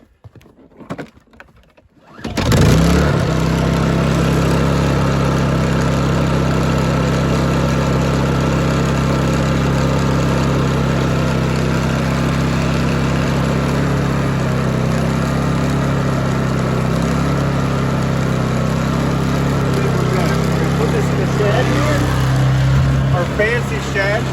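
A Honda 2200 watt generator running in cold Alaskan weather, starting after a brief rattle and then droning at a steady, loud, even idle that holds unchanged for over twenty seconds.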